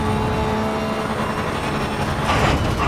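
A racing car's engine roars at high revs in sixth gear in the Assetto Corsa Evo driving sim, a loud continuous droning tone that swells slightly near the end, with no voices.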